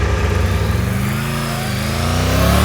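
A 2024 Triumph Tiger 900 Rally Pro three-cylinder motorcycle engine revs steadily and loudly up close, its pitch rising smoothly over a couple of seconds with no talking.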